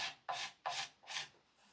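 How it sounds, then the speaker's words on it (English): Three crisp scraping strokes of a sharp 90-degree steel corner drawn across wood in chair making, each a bright rasping swipe close by with short pauses between, no talk. "it's surprising how much you can scrape with a a good crisp 90-degree corner"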